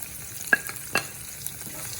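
Curry leaves fry in hot oil alongside onion, ginger and garlic, giving a quiet sizzle with a few sharp spatula scrapes against the pan.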